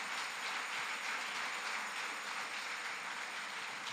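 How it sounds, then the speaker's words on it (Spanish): A congregation applauds during a church service, a dense, steady wash of many hands clapping that holds at an even level throughout. "Denle un aplauso a la palabra de Dios en este día."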